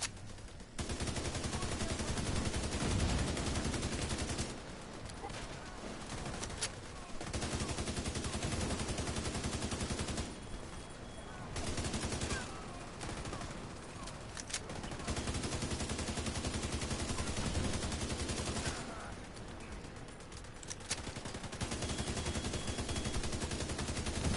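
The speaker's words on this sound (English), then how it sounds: "got him with that last shot right there" Gunfire in The Division 2 video game rattles in repeated bursts of rapid shots, broken by short pauses, at a moderate level and with no talking over it.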